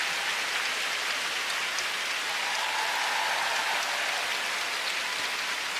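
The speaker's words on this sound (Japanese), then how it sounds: "この会場の拍手、手拍子が彼の新時代の期待を物語っています" Arena crowd at a figure skating competition applauding a skater: a dense, continuous roar of many hands clapping that holds steady and loud throughout, with no clear rhythmic beat standing out.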